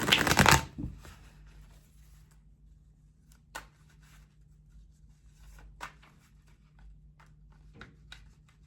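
Tarot cards riffle in a quick loud burst up close, then soft intermittent card handling and light taps follow over a faint steady hum.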